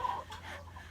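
Chickens cluck briefly in a farmyard pen, a couple of short close clucks over low background hum.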